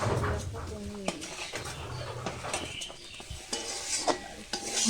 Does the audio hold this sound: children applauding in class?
no